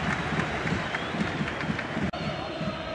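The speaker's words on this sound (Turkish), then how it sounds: "Bu kez de alkışlar Şorumlu için." Stadium crowd at a Beşiktaş versus Barcelona football match applauding a player, a broad steady roar of clapping and crowd noise with a match commentator's voice running over it.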